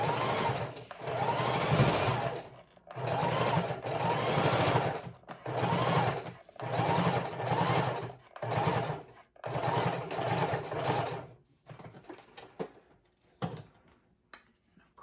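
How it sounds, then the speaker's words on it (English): A sewing machine runs a straight stitch down a paper junk journal pocket in several bursts of steady rapid whirring separated by short pauses, then quieter handling at the end. "we're just going to sew that straight stitch all the way down"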